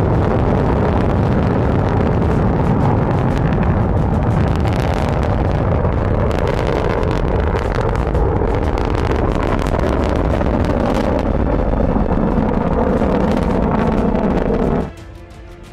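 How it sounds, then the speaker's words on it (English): Kinetica-1 (Lijian-1) Chinese solid-propellant light launch vehicle lifting off, a loud sustained rumbling roar with wind buffeting that holds steady for about fifteen seconds before dropping off abruptly at the end. "here comes China's 22nd orbital launch of the year"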